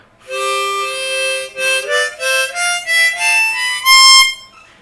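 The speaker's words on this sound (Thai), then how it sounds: "โดเรมิฟาโดลาติโด" A harmonica alternately blown and drawn plays a rising major scale, note by note, with a few held tones at the start before stepping upward clearly and loudly.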